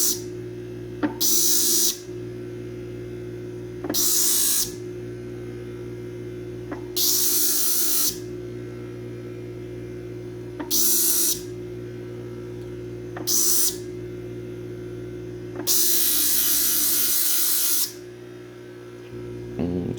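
A TW Design sharpening hone, a variable-speed 100 to 3000 rpm reversible grinder, hums steadily while a blade is ground in repeated short, bright, hissing passes of a few seconds each, close and alone.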